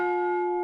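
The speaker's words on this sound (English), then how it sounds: "who's that bell tolling for?" A single bell rings with one steady, clear metallic tone that sustains evenly and cuts off abruptly after a brief moment.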